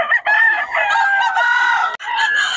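A rooster crows loudly and close by at a market in Bocaue, Philippines, a long sustained call with a brief break near the end, alone without talk.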